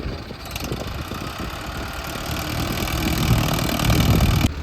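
Farm tractor engine idles nearby in a field before ploughing, a rough, steady low rumble with knocking pulses that grows gradually louder over a few seconds.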